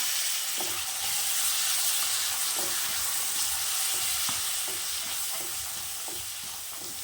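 Peeled green peas stirred and sizzling in a hot pan, a continuous loud frying hiss with periodic soft scraping strokes of the spoon, close up.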